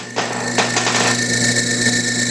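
A steady machine hum from a drill boring into a model-aircraft engine piston, with brief rattling chatter as the bit bites into the material before settling into a smoother, even drone, close and loud.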